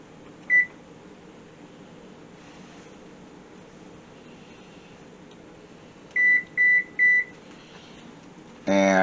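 Oven control panel beeps as the temperature is set, first one short tone, then after a quiet pause three quick beeps in a row, ending with a brief louder clunk against a low background hum.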